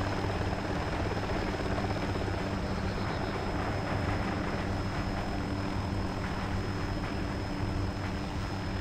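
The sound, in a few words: helicopter landing in Arma 2 video game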